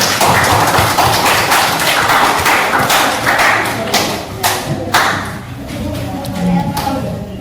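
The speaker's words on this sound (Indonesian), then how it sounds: "tepuk tangan untuk kita hari ini" Students in a classroom clap together, a dense patter of hand claps through the first few seconds that thins out as murmuring voices carry on underneath.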